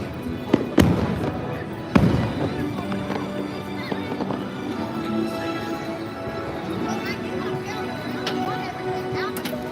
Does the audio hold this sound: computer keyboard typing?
no